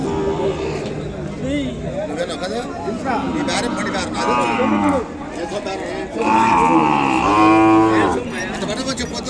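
Ongole calves and cattle at a cattle market, repeated loud close moos and grunts from several animals over a background of crowd chatter and voices.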